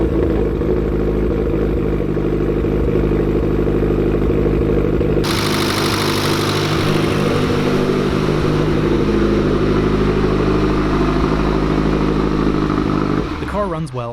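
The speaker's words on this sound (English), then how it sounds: "At last, it's time to fire the car up and see how it runs with the new oil pump and headwork." A rebuilt Mitsubishi Evo 9 MR with a new oil pump and headwork fires up and runs, its engine holding a loud steady idle with a sharp change in tone partway through before easing near the end.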